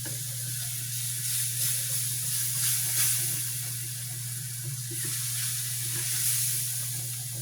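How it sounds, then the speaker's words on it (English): Steady sizzling and soft hissing from a pan as milk is poured a little at a time into cooked flour for corned beef gravy, with faint stirring under a constant background hum. "start adding milk, a little at a time"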